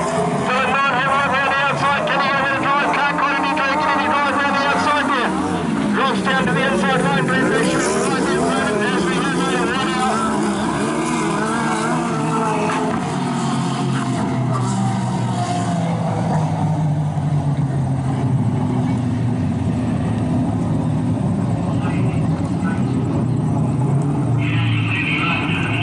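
Racing sidecar engines roar and rev under continuous commentary as the second sidecar race of the day gets underway, the loud mechanical drone holding steady and shifting pitch as the outfits pull away.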